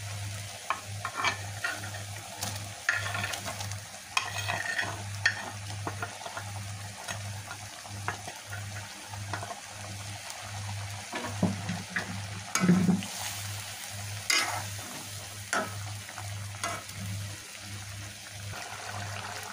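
Prawns simmer in a bubbling Bengali malai curry, with utensils clanking irregularly against the pot over a steady low hum from a nearby fan or burner, all fairly close and moderate in level.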